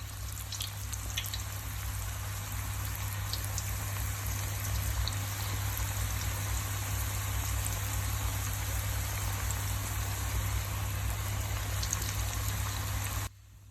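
Onion pakora batter fries in medium-hot oil, a steady dense sizzle and crackle that holds evenly throughout, close and moderately quiet with no voices.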